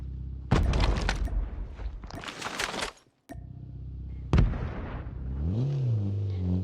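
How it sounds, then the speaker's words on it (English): Gunfire bursts in the Call of Duty Mobile video game, several loud clustered volleys with a sharp crack near the middle, then a rising whine of game effects. "Someone's shooting."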